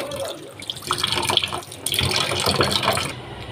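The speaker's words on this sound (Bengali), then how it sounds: "তো প্রথমে আমি ইলিশ মাছগুলোকে আগে ভালো করে ধুয়ে নিচ্ছি।" Hilsa fish are rinsed under a running kitchen tap, with splashing and gushing water that swells and dips as the fish are handled, close and fairly loud, then stops abruptly at the end, with no talking.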